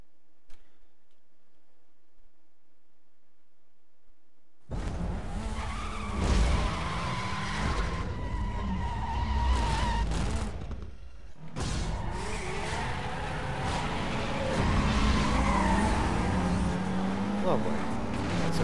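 Race cars in a Need for Speed Most Wanted circuit race roar and skid continuously after a few seconds of silence, with tire squeal and engine noise sustained throughout, briefly dropping out for a moment mid-race.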